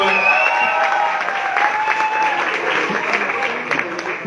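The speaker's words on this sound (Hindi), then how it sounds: "एक बार इनके लिए जोरदार तालियां" Loud, dense applause from a seminar audience, sustained clapping with a few scattered cheers, filling the whole moment close and busy.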